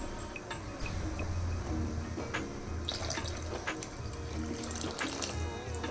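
Water pours steadily into a thick cashew-based vegetable gravy in a home kitchen, making a continuous close splashing trickle for several seconds with no talking.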